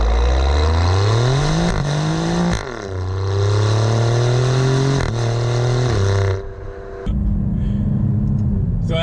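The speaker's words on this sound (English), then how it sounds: "I lost traction and spun those tires a little bit." An Alfa Romeo Giulia Quadrifoglio accelerating hard in race mode with its tires spinning, the engine roaring up through the revs in several rising pulls broken by gear changes, then easing off, loud and close.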